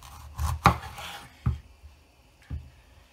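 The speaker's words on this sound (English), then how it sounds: "I just cut the top and the bottoms off." A knife cuts through a bell pepper on a cutting board, giving a few sharp, close chopping thuds with crisp crunches, spaced unevenly and alone without talk.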